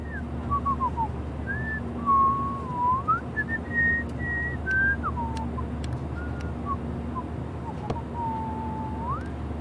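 A game character in Life Is Strange Remastered whistles a meandering, wavering tune of sliding notes over a low steady background hum, with brief clicks scattered through, close and clear.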